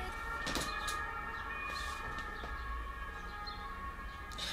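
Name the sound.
ambulance siren passing outside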